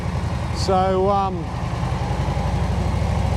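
A Harley-Davidson motorcycle engine idles close by with a low, steady, lumpy pulsing throb, while someone briefly speaks over it.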